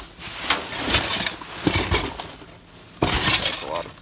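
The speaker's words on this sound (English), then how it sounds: "That's a lot of broken glass there." Broken glass shards from a discarded bowl set clink and shatter in a dumpster, with several loud crashing bursts of breaking glass and a lull before a final heavy smash, while someone talks nearby.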